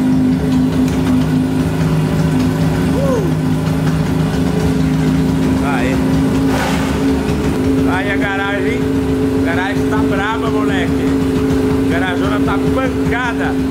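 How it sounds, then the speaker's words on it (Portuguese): Motorcycle engines idling with a loud, steady low drone throughout, while voices talk over the running engines in the second half. "as motos estão esquentando"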